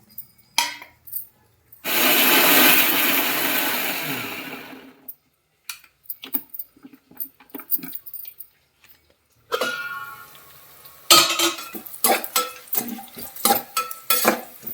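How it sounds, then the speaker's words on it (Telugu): An electric blender whirs loudly for about three seconds, grinding tomatoes for tomato rice, then clattering clinks and scrapes of pots and utensils follow, with no voices. "ఈ లోపల టమోటా రైస్కి మనం టమోటాలు గ్రైండ్ చేసుకుందాం."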